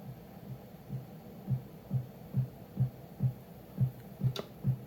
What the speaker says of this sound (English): This is a drum synth that basically just makes drum sound.